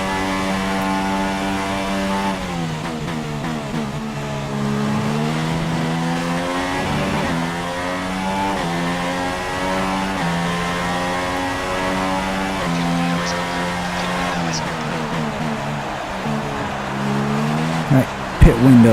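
A Honda-engined Red Bull Formula 1 car in the F1 2016 game screams loud and close, its high engine note rising and then dropping through repeated downshifts. Someone talks over it.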